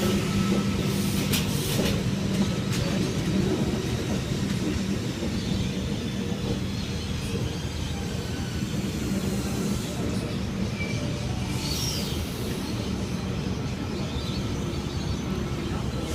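Sydney Trains Y set test train at a station platform, with a steady low rumble of rail noise, faint squeals and clicks, and background station ambience throughout.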